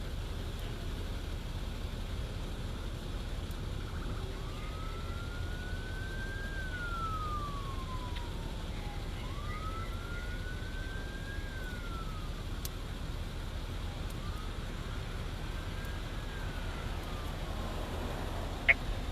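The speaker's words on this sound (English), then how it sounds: "Still hear the sirens, they're getting close." Emergency vehicle sirens in Evansville, faint and distant, a wailing tone rising and falling in slow sweeps over a low background rumble, with no voices.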